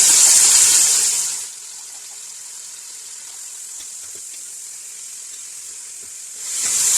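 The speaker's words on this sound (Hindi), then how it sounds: "इस गर्म ऑयल में सारी प्याज डाल देते हैं।" Chopped onions hit hot oil in a pressure cooker with a bright sizzle that quickly dies down to a faint, steady frying hiss, then swells again near the end. No voices are heard.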